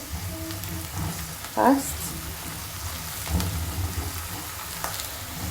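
Spices are stirred into garlic frying in a pan, giving a soft continuous sizzle with a couple of brief stirring scrapes. A voice speaks quietly over it.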